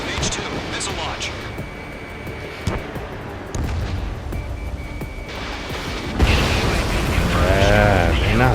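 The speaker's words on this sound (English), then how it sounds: "H2, missile launch." A missile launches in the Ace Combat 7 jet-fighter video game, a loud broadband whoosh building to a surge near the end over dense engine and combat noise, with voices in the mix.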